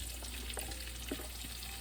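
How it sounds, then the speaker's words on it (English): Diced peppers and onions frying in hot oil give a steady, close hiss with faint crackles and small pops scattered through the short stretch, with no voices. "As you can hear that sizzle."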